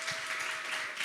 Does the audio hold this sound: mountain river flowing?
no